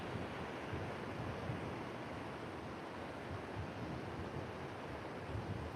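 Rip current water rushes steadily out from a beach, a constant broad wash of surf and wind noise with no pauses, heard from the shore.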